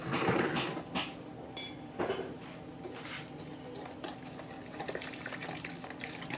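Pizza dough ingredients being mixed with water in a bowl, with intermittent clinks and scrapes of a utensil against the bowl, a few louder knocks early on and a soft watery swish beneath, close by with no talking.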